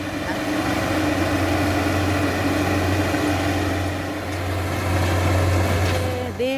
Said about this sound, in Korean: 지금 트랙터 작업 중이고요.